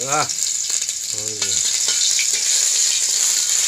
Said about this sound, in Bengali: এই যে লাল শাক ভাজি করবো এখন